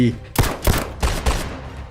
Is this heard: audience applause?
no